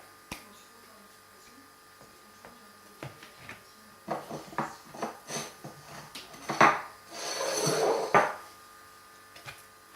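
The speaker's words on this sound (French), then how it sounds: "il faut mélanger parce que le beurre ça a tendance à mal s'intégrer dans la pâte" A utensil clinks and scrapes around a bowl as softened butter is mixed into pancake batter, starting with sparse taps, then a burst of rapid knocking and a longer scraping swirl, fairly close.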